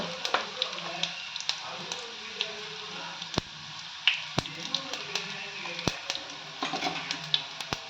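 Tempering with asafoetida sizzles steadily in a hot pan for a brinjal bajji accompaniment, with faint crackles and sharp clicks of a spoon scraping and stirring scattered throughout.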